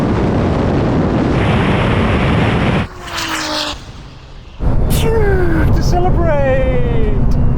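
A tuned Nissan GT-R, a Porsche 911 Turbo and an electric rallycross car launch in a drag race. A loud roaring rush of engines and wind fades to a thinner whine, then surges back loud.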